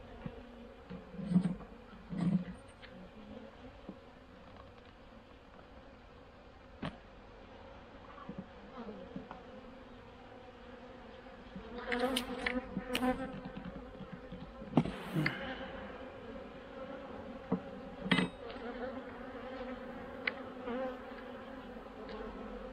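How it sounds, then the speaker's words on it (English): A low, steady hum of many honeybees droning close by inside a hive, with occasional louder buzzes and faint knocks and rustles over the quiet drone. "I got a lot of bees in this hive"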